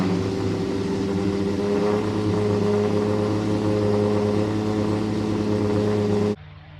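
Engine of a classic Lancia at the Bicester Scramble car gathering, a loud, steady droning roar with strong low hum and harmonics, held constant for about six seconds before cutting off abruptly to quieter background.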